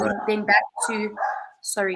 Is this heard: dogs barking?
yes